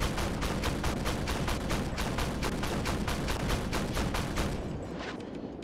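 Rapid automatic gunfire from an M113 armored vehicle in the tank game Armored Warfare, a loud, steady stream of shots at roughly four per second that carries on for several seconds before easing off.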